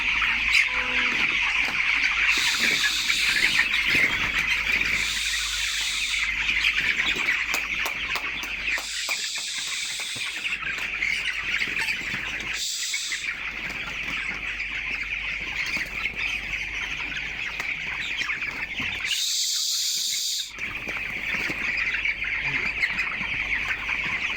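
Broiler chickens on a poultry farm fill the space with a dense, constant chorus of clucks and squawks, many birds close and far at once.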